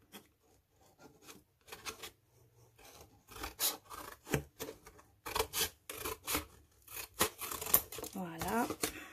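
Paper corners are trimmed for a handmade scrapbook mini album, giving a series of short, crisp rasping snips and rubs in irregular bursts, close and fairly quiet.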